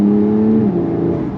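A loud, close sports exhaust of a Porsche 911 Targa 4 (992) in Sport mode rumbling at high revs, its tone dipping slightly partway through the brief burst.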